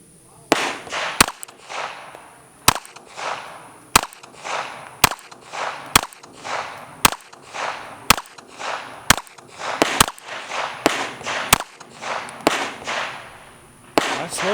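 A Springfield Hellcat OSP .380 pistol firing full metal jacket rounds at a range, about ten loud, sharp, close shots fired at a steady deliberate pace, each one trailing a short echo.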